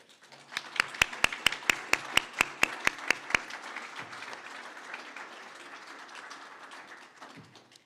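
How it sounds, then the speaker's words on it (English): A short burst of applause: about a dozen sharp, evenly spaced claps at first, then fading into a soft murmur of room noise. "Is it appropriate to give a round of applause at this moment?"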